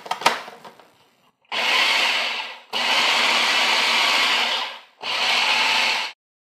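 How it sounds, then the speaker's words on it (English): A food processor pulses pistachio nuts with sugar in three loud, close bursts of whirring and grinding, each lasting about a second or more with brief silences between, after some initial clatter. "put the nuts in the bowl of a food processor, then add the sugar. Pulse until the nuts are finely ground"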